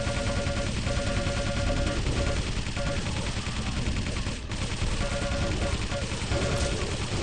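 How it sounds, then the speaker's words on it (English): Dense machine gun fire from Quake Live rattles continuously at a steady rapid rate, loud and close, mixed with other weapon blasts through the whole stretch, with a commentator's voice layered over the gunfire. "that machine gun is doing beautiful damage"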